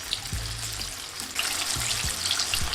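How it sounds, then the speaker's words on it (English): Chicken pieces for Nashville hot chicken frying in hot oil, a steady close sizzle and crackle that grows louder and denser partway through, with a few low clunks and knocks as the pieces are turned in the pan. "As I'm frying this, I'm just keeping an eye, just trying to turn them around"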